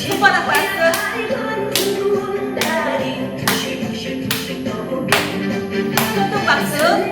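Palm clapping in a senior class, sharp hand claps landing in a steady rhythm about once a second over music with a singing voice.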